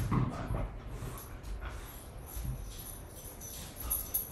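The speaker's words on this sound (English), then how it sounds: "Why are you barking at them birds?" A dog barks at birds outside a home, giving a few short, low barks and whimpers that sit under a steady, noisy outdoor background.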